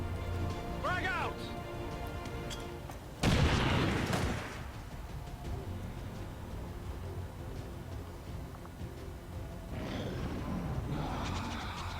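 A grenade blast in XCOM 2 erupts as a single loud, booming explosion a few seconds in, trailing off into ambient game hum, with a voice heard before it and a later whooshing swell.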